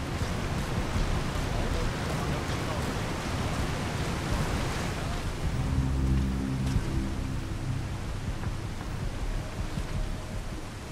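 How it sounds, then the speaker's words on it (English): Steady rain hisses through the Metal Gear Solid V: The Phantom Pain game world, a dense broadband wash of falling water that holds throughout, with a low rumbling hum joining midway. "Caution, rain approaching."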